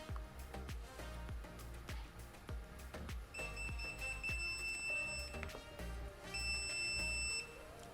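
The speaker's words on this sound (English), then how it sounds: "this shade's going to beep to let me know that it's ready to be paired." A motorized window shade gives sustained electronic beeps to show it is ready to pair, sounding twice over a busy background of clicking and thumping.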